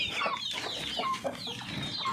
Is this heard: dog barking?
no